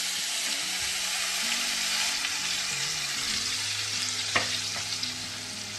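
Chopped ginger and garlic sauté in the same hot oil used earlier for frying fish on a low flame, a steady close sizzle with a few brief scrapes and clinks of stirring, no voices.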